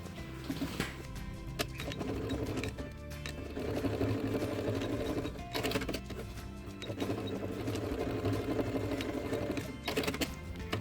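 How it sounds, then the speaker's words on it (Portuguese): Sewing machine stitching a double topstitch seam on a fabric pouch with elastic, running in steady whirring bursts with brief pauses between runs. "Vou rebater costura dupla aqui."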